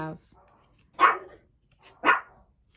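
Dogs bark in two short bursts about a second apart, fairly loud and close, with a brief bit of voice at the very start.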